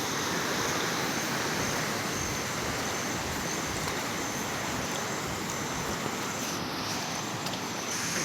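A forest stream flowing below Ghonsari waterfall in Kankavli, Sindhudurg, Konkan, making a steady, unbroken rush of water that stays even and fairly close throughout, with no voices.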